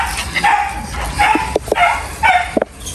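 Several dogs strolling in a flower garden bark and yip in short excited bursts while running around, with some whimpering in between, close and fairly loud.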